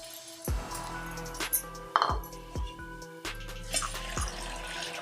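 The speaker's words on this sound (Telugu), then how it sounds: "ఒక బౌల్ తీసుకొని బౌల్లో వేసుకొని" A bowl clinks repeatedly against something while flattened rice (poha) is washed in water: sharp, close metallic taps scattered over a soft background of running or sloshing water.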